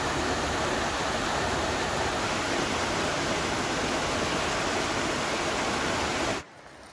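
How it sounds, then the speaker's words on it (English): A small side stream feeding the Dungeness River rushes in a steady, full broadband wash, close and continuous, then cuts off abruptly near the end. "This is a little side stream or tributary of the Dungeness River."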